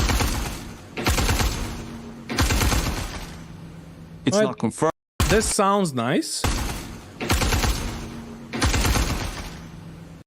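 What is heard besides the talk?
gunfire with delay echo in video game Star Citizen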